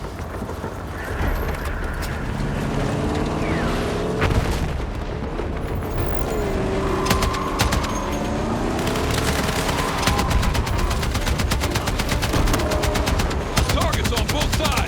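Video game gunfire in Battlefield 6, dense bursts of automatic weapon fire and booming impacts layered over loud continuous battle noise and music, sustained throughout.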